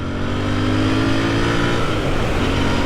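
A brand-new 2021 Royal Enfield INT650 parallel-twin motorcycle on a break-in ride revs and accelerates, its engine heard close and loud as a rising, continuous drone.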